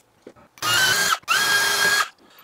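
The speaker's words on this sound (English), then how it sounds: "We'll drive those screws in and we'll get this thing installed." A power drill drives screws into a cabinet in two close, loud bursts of whirring about half a second apart, with brief quiet clicks and handling noise around them.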